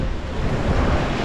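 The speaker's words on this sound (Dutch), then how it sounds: "We krijgen hier misschien nog wat golfjes." Water splashing and surging in waves on a water ride at the Fort Fun Abenteuerland amusement park in Bestwig, a steady, loud broadband wash of churning water with wind-like rumble, close and continuous, without talk.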